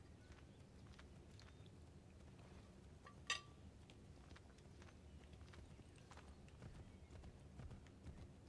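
Horse hooves clip-clop at a steady walking pace in Assassin's Creed 3, played on PS4, soft and continuous under game ambience with one brief sharp click partway through.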